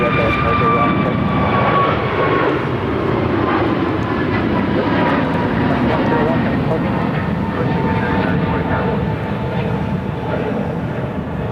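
An American Airlines Airbus A321 jet takes off at Phoenix Sky Harbor Airport, its loud broadband engine roar holding steady and close throughout, with a person talking over it.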